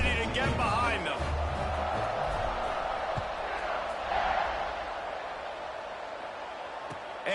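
Stadium crowd noise from a college football game in NCAA 26, a steady roar sustained across the clip around a kickoff after a touchdown, with a commentator talking over it.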